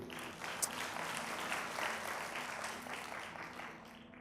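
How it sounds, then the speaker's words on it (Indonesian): Congregation applause for a church praise and worship team, a soft, steady wash of clapping lasting a few seconds with a faint low hum beneath it. "kita beri tepuk tangan dong kalau boleh buat tim Praise and Worship"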